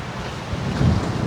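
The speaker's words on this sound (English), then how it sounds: "The wind is very strong out here." Strong wind on a beach at Marant Bay, St Thomas, buffets the microphone in a loud, continuous low roar, with surf rumbling underneath and no voices.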